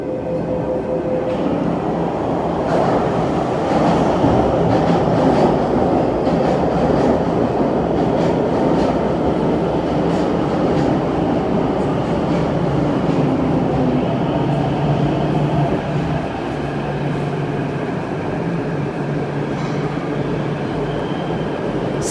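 A subway train rolling into an underground station, the motors whining and wheels clattering loudly and continuously, rising and settling over about twenty seconds with no speech.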